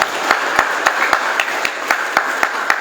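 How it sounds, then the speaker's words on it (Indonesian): Audience at a quiz contest marking Indonesia's 77th Independence Day applauding the participants, with a few loud rhythmic claps standing out close to the microphone over a steady wash of clapping, and no talking. "Tepuk tangan untuk para peserta."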